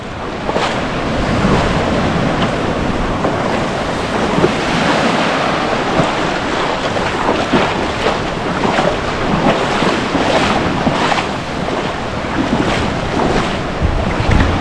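Small ocean waves washing over a stony beach of coral and rock at Gamat Bay on Nusa Penida Island: a continuous loud wash and surge of surf with strong wind noise on the microphone, no talk.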